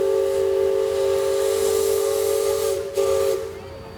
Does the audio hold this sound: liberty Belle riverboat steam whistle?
yes